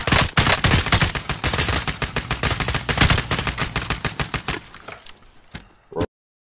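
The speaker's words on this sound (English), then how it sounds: "Shit, they're shooting." Rapid automatic gunfire in Call of Duty: Warzone, loud close bursts of dozens of shots in quick rhythm that thin out and stop abruptly after about six seconds.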